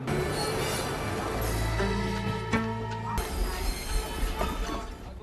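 A passenger train rolls along the rails at a railway crossing, a steady loud rumble with rising squeals and tonal whines from the wheels, over a bed of dramatic film music.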